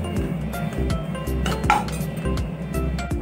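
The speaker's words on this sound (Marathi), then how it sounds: "हे पण चांगलं आपण परतून घेणार आहोत." A metal utensil stirs semolina sautéing in a pan for modak, making a rhythmic series of light scraping clinks and taps against the pan, close and moderately loud.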